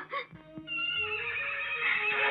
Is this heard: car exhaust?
no